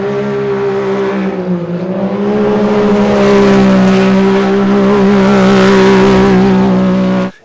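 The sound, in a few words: Can-Am car driving hard on dry pavement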